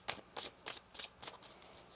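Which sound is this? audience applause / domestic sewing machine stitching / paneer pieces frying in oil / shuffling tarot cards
shuffling tarot cards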